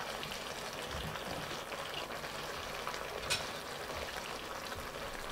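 Beef and pork spaghetti guisado frying and being stirred in a pan, giving a steady, dense sizzle throughout with a faint scrape of the stirring utensil, and no talking.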